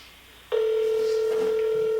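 A telephone call rings out on the line: a steady electronic ringback tone starts abruptly and holds unbroken at an even level, with no voices over it.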